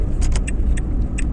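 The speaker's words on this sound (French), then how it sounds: "En espérant que la voiture redémarre." A car engine running steadily and loudly up close after restarting, a continuous low rumble with light metallic jingles like keys over it.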